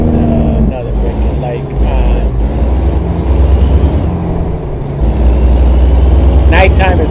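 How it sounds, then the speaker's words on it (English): Heavy truck in American Truck Simulator at night in Los Angeles, braking with a sharp hiss of air brakes near the end. Engine rumble and nearby traffic run steadily underneath, and someone talks over it. "Another brake."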